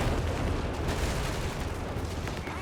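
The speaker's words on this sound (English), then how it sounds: "Has to be the whiz bang." Dense, rumbling barrage of rocket artillery impacts from a whiz bang strike in Company of Heroes 3, continuous booming explosions layered loudly with no pause.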